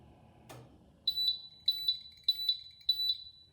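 An oven timer gives a high electronic beeping in four paired bursts, evenly spaced, after a single soft knock; fairly quiet with no talking.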